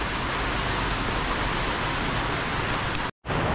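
Heavy rain pours down steadily as a dense, continuous hiss, loud and close, cutting out for a brief moment near the end before resuming.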